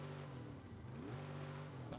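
A stock Mercury Cyclone in Forza Horizon 5 idles and revs, its exhaust giving a steady low engine drone with a slight dip and swell in pitch, faint and alone.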